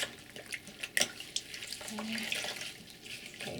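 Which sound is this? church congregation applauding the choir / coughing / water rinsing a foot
water rinsing a foot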